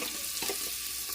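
Onion hits hot cumin-seasoned oil in a pan for spicy masala rice, giving a steady close sizzle with soft stirring scrapes throughout, no voices.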